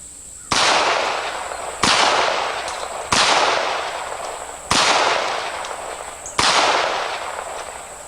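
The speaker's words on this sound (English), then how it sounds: "Yeah, shooting watermelons is pretty fun too." Five sharp, loud .22 revolver gunshots aimed at watermelons, spaced roughly a second or more apart, each with a long ringing decay outdoors.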